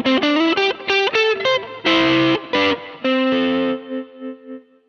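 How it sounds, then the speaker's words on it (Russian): An electric guitar played through a Mooer GE200 processor with its distortion effect on, ringing out a quick run of distorted notes and chords and ending on a held note that fades away. "И включился какой-то сладенький дисторшн."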